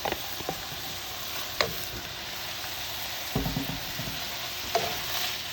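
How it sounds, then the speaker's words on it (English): Meat and vegetables for keto Philly cheesesteaks sizzle steadily in a pot, with occasional sharp scrapes and clinks as they are stirred, close up and with no talking. "I'm gonna go ahead and throw in my vegetables back into my pot here, so they can start cooking together"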